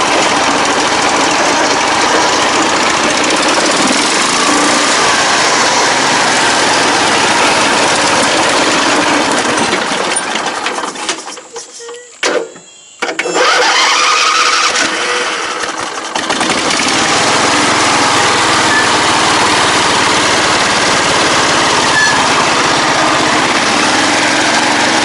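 Custom stock Yamaha motorcycle with a swapped-in 670cc V-twin engine runs loudly for a long stretch, its exhaust droning steadily before a brief dip near the middle as it nearly stalls, then picking back up.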